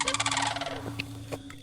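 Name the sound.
unidentified bird calling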